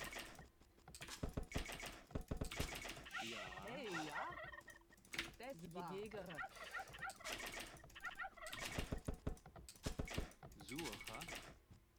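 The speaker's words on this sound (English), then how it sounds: "Your keyboard is so loud." Loud, rapid computer keyboard typing, clattering in quick bursts of clicks while people commentate a strategy game tournament final and talk over it almost continuously.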